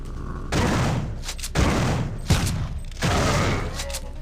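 Heavy shotgun blasts from an enemy in the System Shock 2 video game, four loud booming discharges spaced about a second apart, each followed by a ringing tail.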